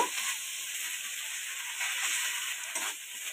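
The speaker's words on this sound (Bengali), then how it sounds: "আদা আর টমেটো আবার খুব ভালো করে একসঙ্গে কষিয়ে নেব" Ginger paste and tomato sautéing together in a pan, a soft, steady sizzle and hiss running throughout with faint stirring, no voices.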